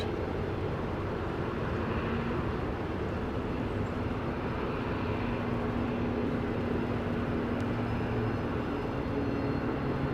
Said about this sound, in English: Flight 52 is coming in from Houston Hobby Airport. It's a MAX 8.